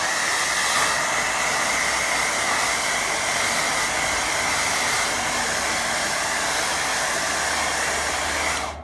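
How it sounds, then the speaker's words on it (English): A hair dryer blowing hot air across a wet watercolour painting of a waterfall, a loud, close, steady whirring rush that runs unbroken and cuts off abruptly at the end, with no talking. "I'll get a quick blow dry."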